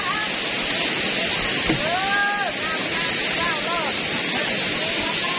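Steady, rushing roar of a waterfall at a rope-swing jumping spot in southern Laos, continuous and fairly loud, with a few brief voices and whistles heard over the water.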